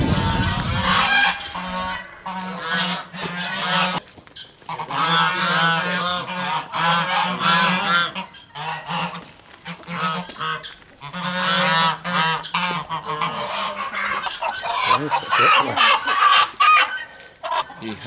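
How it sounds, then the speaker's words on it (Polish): White Pomeranian geese honk repeatedly and loudly up close, a noisy chorus of overlapping calls with short pauses between bursts. "A to jest biała gęś pomorska"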